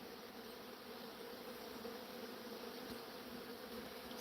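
Bees and a bumblebee buzz around a jar of honey as a faint, continuous hum with a steady drone and no talking.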